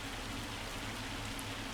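Steady rain with hail drumming in Farm Simulator 25, a dense, even hiss that stays constant and fairly loud throughout with no voices.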